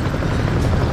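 An Apache helicopter in the video game Apache Air Assault gives a continuous, loud rotor drone that holds steady throughout, with no voices.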